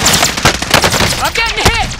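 Rapid automatic gunfire in the video game Call of Duty: Modern Warfare, loud bursts of shots rattling close by with sharp ricochet-like whines near the end, no speech over it.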